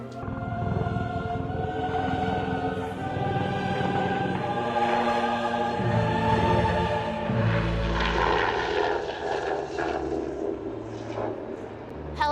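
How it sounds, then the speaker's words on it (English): A helicopter flying overhead near a house, its loud rotor and engine drone steady and close throughout, rising slightly in the middle, with no talking. "Helicopter is always spying on us, guys, even at my house"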